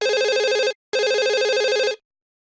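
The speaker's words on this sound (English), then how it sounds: "then the phone rang." A telephone rings in the 2000 PC adventure game Skippy – The Curse of the Temple of Ock: two loud, close electronic warbling rings, each lasting under a second, separated by a short gap and followed by silence.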